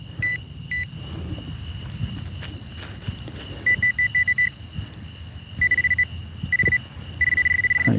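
A metal detector sounds repeated beeping tones while coin hunting at night outdoors, pulsing in short bursts and longer trills over a steady background hum and faint footsteps.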